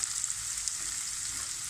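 Capsicum sizzles and fries in a pan with cabbage to follow, a steady close crackle with faint stirring and no talk.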